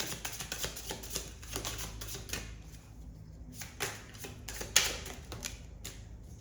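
Oracle cards shuffled and drawn by hand during a tarot reading, giving a quiet run of soft riffling flicks and taps with short pauses, close and alone.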